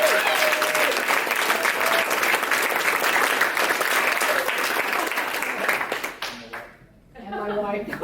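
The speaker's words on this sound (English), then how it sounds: "So I just want to give a round of applause to Drew." An audience at a community homelessness symposium in Whittier applauds a speaker, steady dense clapping for about six seconds before it thins and fades, with a voice starting to talk as it dies away.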